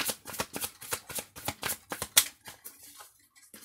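Tarot cards are shuffled and drawn in a rapid run of crisp, close riffling slaps that thin out into a few scattered flicks near the end, with no talk.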